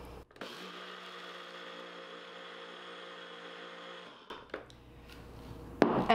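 Gluten-free oats whir into oat flour in a blender, a steady loud motor drone running for about four seconds before it winds down, followed by a few light knocks and rattles.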